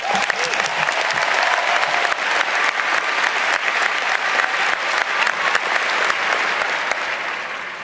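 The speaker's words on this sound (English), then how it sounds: "I think that deserves a round of applause" A large crowd at a Northern Arizona University commencement claps steadily and loudly, a continuous roar of hands with no voices on top, tapering slightly at the end.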